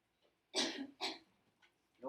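Two sharp, throaty coughs in quick succession, fairly close, followed by quieter breathing and faint rustles.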